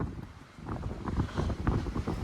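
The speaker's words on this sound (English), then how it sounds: "Holy crap, it is so windy." Strong winter storm wind gusting across a microphone outdoors on a Toronto residential street, a continuous loud buffeting roar with rising and falling gusts, no talking.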